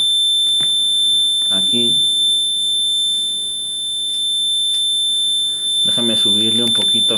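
A high electronic tone from a plant soil-moisture alarm circuit built with transistors and two electrodes in potting soil rings continuously and steadily, with someone speaking briefly over it at the start and end.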